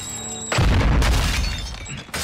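Grenade blast thrown through a window in Call of Duty Modern Warfare 2 campaign: a sudden loud booming burst with shattering debris that rumbles and decays over about a second and a half, with no talk over it.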